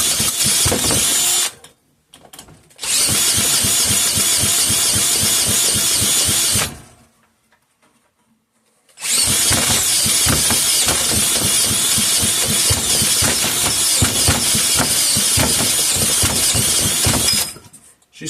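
Clinton model 350 small engine, out of fuel and spun over with a cordless screw gun, churning in loud, harsh rattling bursts across three long stretches split by silent pauses.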